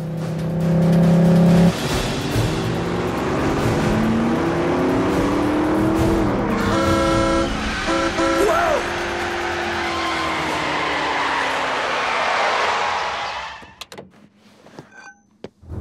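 A cartoon car speeding with an engine revving up through rising and falling pitch sweeps, tires squealing in short bursts mid-way, the roar fading sharply near the end followed by a few faint clicks.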